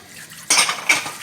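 Small bowls and dishes clatter in a sink during washing, with bright clinking and clattering that starts abruptly halfway through, close and fairly loud, with no talking.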